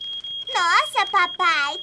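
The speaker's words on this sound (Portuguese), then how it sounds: "Minha torrada queimou e disparou o alarme de incêndio." A smoke alarm set off by burnt toast sounds one steady, piercing high beep that runs unbroken under loud voices talking over it in a cartoon scene.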